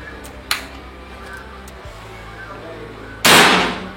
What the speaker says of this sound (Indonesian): Kita lanjut ke tembakan yang ketiga.